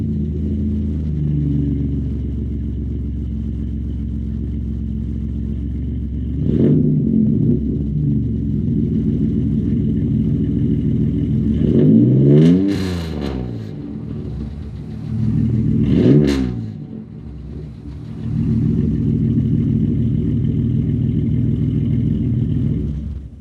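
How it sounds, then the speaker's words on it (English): A 4th-generation Chevrolet Camaro 3.8L V6 with the muffler deleted, idling with a deep steady rumble, then revved in three rising and falling bursts, close and loud, with no talking. "With the muffler off, it sounds way better at idle, but it sounds pretty bad when you give it gas"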